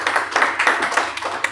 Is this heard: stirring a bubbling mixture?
no